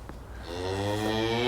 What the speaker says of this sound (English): Someone down here is mooing a lot.